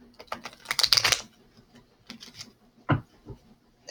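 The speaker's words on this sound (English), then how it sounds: "So we're going to go ahead and shuffle these up real quick." A deck of tarot cards is shuffled, giving a quick flurry of soft papery riffles and clicks followed by a few scattered taps, close by with no talking.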